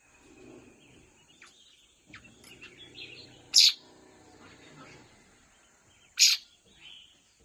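A sick, rescued young Chinese hwamei thrush calls nearby, giving two loud, sharp piercing cries a few seconds apart, with softer chirps and faint murmurs between them.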